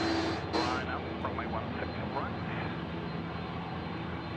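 An aircraft roars past at night at Sydney Airport, a broad, steady engine rumble heard at a distance, with people talking faintly over it.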